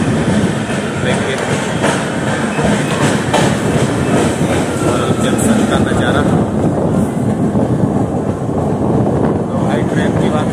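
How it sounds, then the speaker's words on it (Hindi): Valsad–Vadnagar Intercity Express pulling away and gathering speed, its steady loud rumble and rail clatter filling the whole stretch with a constant broadband roar and faint voices underneath. "ट्रेन काफी एकदम मस्त ट्रेन है, निकलते एकदम रफ्तार पकड़ ले रही है"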